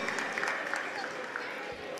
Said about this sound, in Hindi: एक बार अपने लिए ताली बजा दीजिए